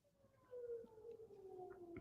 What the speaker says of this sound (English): Oh, I just heard sirens going off.